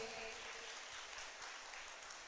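Church congregation clapping to praise the Lord, a faint, dense wash of applause heard from a distance throughout the short moment.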